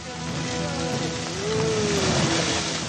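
Heavy rain falls in North Bengal, a dense continuous hiss of drops on surfaces that stays steady and full for the whole stretch, with a faint tonal hum beneath.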